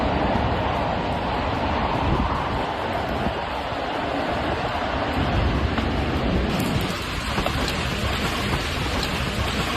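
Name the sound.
tornado wind at Begishevo Airport, Tatarstan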